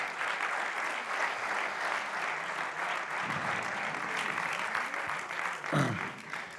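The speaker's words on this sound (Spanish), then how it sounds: "Un aplauso muy fuerte para Jesús." Steady applause from an audience at a lecture, sustained and fairly even across the whole stretch, with a brief swell near the end.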